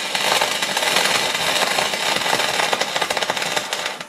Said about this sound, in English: Just going to have a little practice run, rubbing a bit of scrap aluminium.